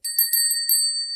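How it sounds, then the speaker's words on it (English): A small antique hand bell rings about five quick bright strikes in a row, clear and close in a quiet room, its metallic tones fading briefly after each strike. "my little antique bell"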